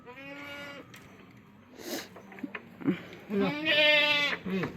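A goat bleats loudly nearby, with a drawn-out wavering call at the start and another at the end, and brief voices and clatter between.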